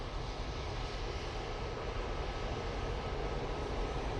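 An EasyJet airliner at Manchester Airport gives off a steady, moderately loud broadband jet engine roar that holds evenly throughout without voices.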